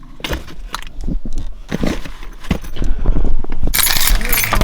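Car keys jingle and clink while being searched for, a series of short metallic rattles and taps that come in irregular bursts and grow busier and louder toward the end.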